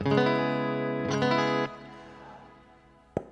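An electric guitar through a Princeton amp model on a Quad Cortex rings out a sustained note, then a second strummed note that cuts off, leaving a fading tail and one sharp pluck.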